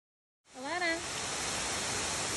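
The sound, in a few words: waterfall in the Hoh Rainforest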